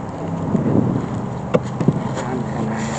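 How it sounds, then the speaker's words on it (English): Steady wind buffets the microphone outdoors during a fall beehive inspection, a low rushing roar with a few brief knocks and thumps partway through. "Yeah, it's windy."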